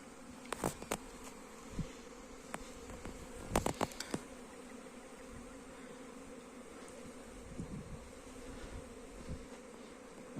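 Honey bees flying out around hives in early season, a soft continuous hum of many wings with occasional louder buzzes as single bees pass close, no voices.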